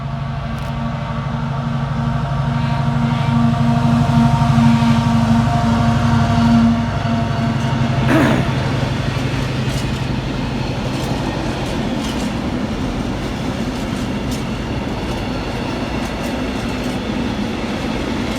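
A freight train rolls loudly through Nuneaton station, its heavy rumble and wagon clatter filling the whole stretch, with a sharp bang partway and continuous rolling noise afterward.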